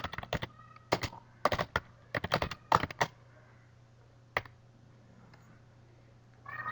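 Close, crisp clatter of computer keyboard keys struck in quick bursts of tapping while a blog post is written, with short pauses between runs and a faint steady hum underneath.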